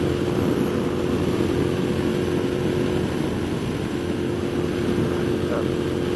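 Moto Guzzi V7 mk2 750cc motorcycle cruising at about 100, a steady, continuous engine and wind roar held at one level throughout, with no break or change in pace.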